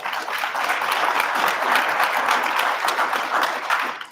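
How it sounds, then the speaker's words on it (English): A summit audience at a clean energy stakeholder workshop breaks into steady, dense applause that holds at an even level for about four seconds before starting to thin at the end. "let's give them a round of applause as well"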